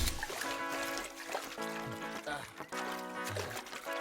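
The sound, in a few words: clean water being poured or splashed, from a movie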